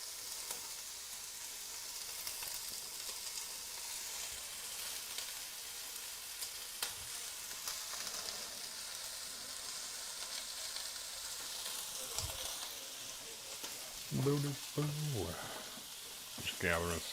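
Meat sears in a hot pan, a soft steady sizzle running quietly throughout, with a few brief voice sounds near the end.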